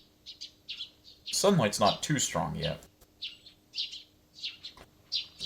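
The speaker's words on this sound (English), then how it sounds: "I hear the tweeting of small birds outside the window." Small birds tweet in short bright chirps outside a window in the visual novel Steins;Gate, scattered lightly through the scene and briefly covered by a spoken line.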